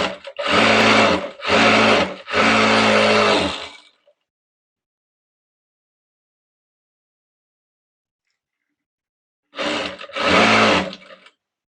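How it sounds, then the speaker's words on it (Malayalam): A sewing machine stitches the outline of a choli blouse in loud, close bursts, three quick runs back to back, a long pause of silence, then two more runs. "ഇതിൻ്റെ ഔട്ട്ലൈൻ എല്ലാം അങ്ങ് തയ്ച്ചെടുത്തേക്കാമേ"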